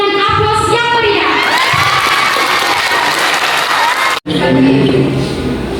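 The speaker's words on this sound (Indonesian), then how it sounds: "Kita sambut dengan aplaus yang meriah." Loud crowd applause and cheering with whoops at an open mic event marking World Food Day, steady and dense throughout, briefly cutting out near the end before resuming.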